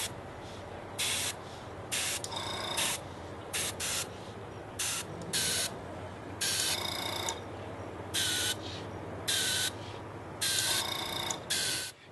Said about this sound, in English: there's a wide range of sizes that we can make with just a single action airbrush